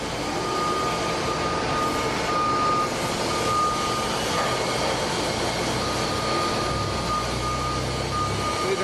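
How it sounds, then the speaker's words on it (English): Continuous mechanical hum and grinding of a screw press dewatering coffee grounds while filling, with a steady tonal whine running through and a low rumble throughout, no voices. "You can see the screw is feeding some material in because it becomes visible."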